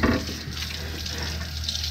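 Tap water runs steadily from a faucet, a close, continuous hiss and splash that holds at the same level for the whole stretch.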